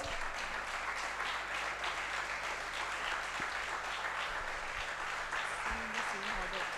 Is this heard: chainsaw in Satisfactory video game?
no